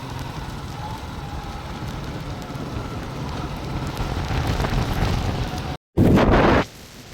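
Heavy storm rain pours steadily with a roaring wash over the sea, building in intensity, then a sharp loud gust or burst near the end.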